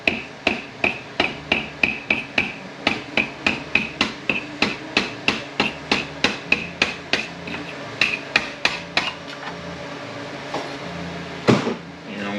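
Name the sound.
hammer tapping on connector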